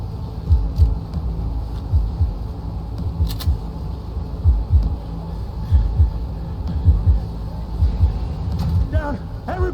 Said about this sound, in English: my heartbeat's sounding a bit too loud right now